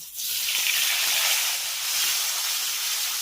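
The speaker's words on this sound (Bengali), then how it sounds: "এর ভিতরে অ্যাড করব কেটে রাখা পাকা টমেটোটা" Chopped ripe tomato hits hot oil in a pan during a vegetarian eggplant dish, bursting into a loud, dense hiss that starts abruptly and holds steady, close up.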